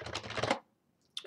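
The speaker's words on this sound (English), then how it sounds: "So I used a couple of keyboard shortcuts there" Keyboard shortcuts are typed on a computer keyboard, a short burst of close, rapid key clicks, then a pause and a few more quick clicks.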